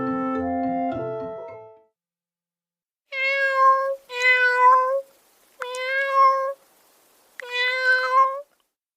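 A cat gives four clear, drawn-out meows close to the microphone, spaced about a second apart, after a brief lower tonal sound at the start.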